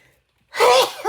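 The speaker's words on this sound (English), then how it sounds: "I got to sneeze." A single sharp human sneeze after a brief near-silent pause, loud and close, followed by a short breath.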